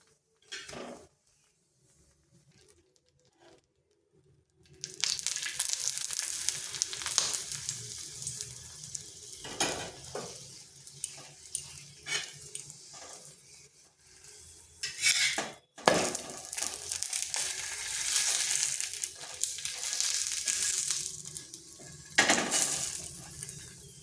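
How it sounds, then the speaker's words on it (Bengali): A flatbread snack made from flour and powdered milk fries in a little oil over slow to medium heat while it is stirred and flipped, with soft sizzling and scraping in bursts and brief pauses between them. "এইভাবে উল্টে পাল্টে নেড়ে চেড়ে ভেজে নিচ্ছি"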